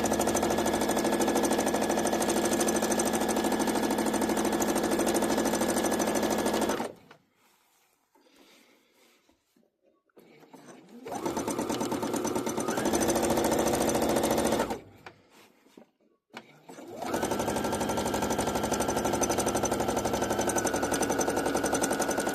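A sewing machine quilts fabric coasters with a steady, loud mechanical whir. It runs in long bursts broken by two quiet pauses, then starts again.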